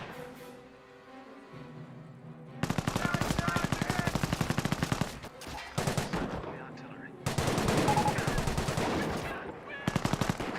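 Rapid automatic gunfire in the WWII strategy game Company of Heroes, heard in three long bursts of loud, dense rattling shots with short gaps between them, opening over a quieter battlefield ambience and accompanied by faint voices.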